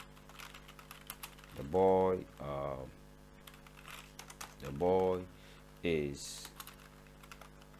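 Light, rapid keystrokes tap on a computer keyboard while HTML is typed, running steadily close by beneath intermittent speech.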